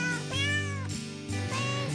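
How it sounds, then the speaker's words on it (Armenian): A cat meows in a few drawn-out, tonal calls over steady musical notes, loud and close with no talking. "Կատուն ասաց միաո միաո"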